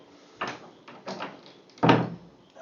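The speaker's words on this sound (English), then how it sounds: "Door was open." A door moving in a quiet indoor room gives a few soft knocks and clunks spread over a couple of seconds, the last one the loudest, close by and with no voices.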